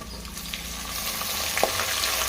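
Onions and fenugreek leaves frying in well-heated oil, a loud, dense, continuous sizzle with a few faint stirring clicks, close by and alone.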